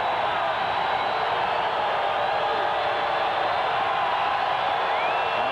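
Steady stadium crowd roar at a 1996 Raiders at Broncos football game, a continuous wash of distant fans without a break, staying at an even level throughout.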